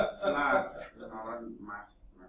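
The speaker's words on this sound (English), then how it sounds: "He's going to come in coughing." A man clears his throat and coughs as he enters a classroom, a few rough bursts up close that taper off into softer hacks.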